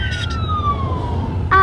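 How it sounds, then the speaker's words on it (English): Ambulance siren heard from a car on a road trip to Margate, a loud wailing tone sliding downward then restarting, over steady low engine and road rumble. "Ambulance!"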